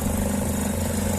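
A Lada Vesta engine idles with a newly fitted engine cover, giving a steady, loud low hum with a faint continuous buzzing rattle on top and no talking.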